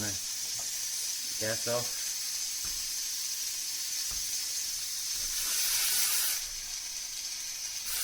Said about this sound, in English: the pressure relief valve's just going now